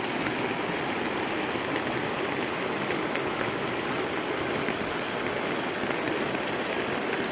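Steady rain falls in a constant, even hiss with no pauses, soft and evenly spread.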